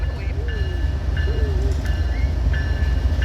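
A train rolls across a pedestrian path crossing in a metropark. Steady close rumble fills the clip, with repeated short high whistle-like tones and sliding squeals over it.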